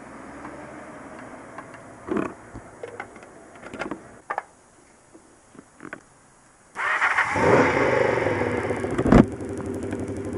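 Small fuel-starved engine, started with a little choke, sputters through a few short bursts before catching and settling into a steady, fairly loud running drone.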